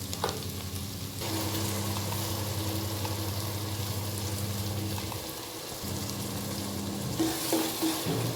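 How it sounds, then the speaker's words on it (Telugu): Browned onions and green chillies fry in oil in a pan, giving a steady, quiet sizzle with faint stirring and scraping and no talk. "కొంచెం బ్రౌన్ వేగినాయి ఆనియన్స్ ఇప్పుడు పచ్చిమిర్చి వేసుకోవాలి పచ్చిమిర్చి కొంచెం ఫ్రై అయిన తర్వాత టమాటా పూరి వేసుకోవాలి"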